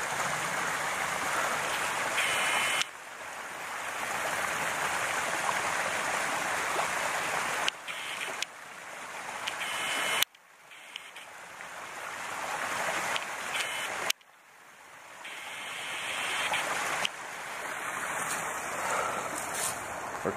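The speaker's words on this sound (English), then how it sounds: "So the little tiny brook." A small brook flowing beside a campsite gives a steady rushing, gurgling wash of water, fairly close, with a few abrupt changes in level and no talk.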